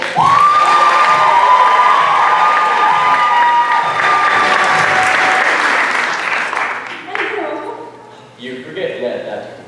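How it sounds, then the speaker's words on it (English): High school theatre audience at a musical applauds and cheers loudly, with whoops and shouts over dense clapping that gradually fades out, leaving scattered voices at the end. "a warm round of applause, if you will, for tonight's guest devotees"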